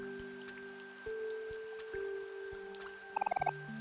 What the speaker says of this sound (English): The rain has been adjusted.